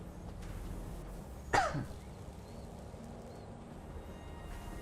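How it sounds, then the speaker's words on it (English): A single short cough, fairly close, breaks an otherwise quiet room with low background hum. "Sorry for the cough."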